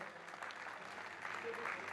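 Steady clapping from a crowd fills the whole moment, a sustained round of applause at moderate volume, at the finish and podium ceremony of an urban adventure race.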